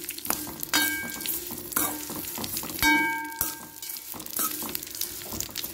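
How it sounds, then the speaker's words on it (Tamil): Vermicelli roasting in ghee in a kadai over a medium flame, a soft continuous sizzle broken by repeated scraping stirs and a few clanks of the spoon against the pan, with no talk. "சேமியாவை சேர்த்து ஸ்டவ்வை மிதமான தீ வச்சு லைட்டாக கோல்டன் கலர் வர அளவுக்கு இப்போ வறுத்து விட்டுக்கலாம்."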